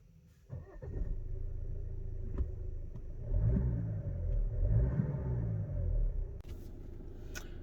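A 2020 Alfa Romeo Stelvio Lusso TI SUV driving, low engine rumble and road noise rising and falling as it pulls away and accelerates, heard steadily from inside with no talking.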